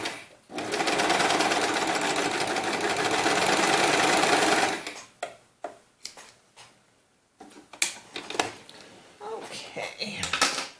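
A sewing machine stitching doll romper fabric, a loud close continuous whirring run for a few seconds that stops abruptly, followed by scattered clicks and handling knocks as the work is adjusted.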